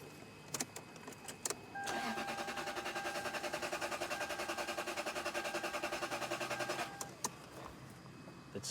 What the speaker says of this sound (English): Let me crank the engine.